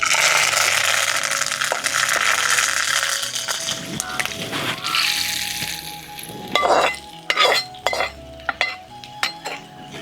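Dry red chillies, tempering spices and curry leaves hit hot oil in a pan for Andhra dosakaya pachadi, a loud steady sizzle that fades and gives way to sharp clinks and scraping of a utensil against the pan.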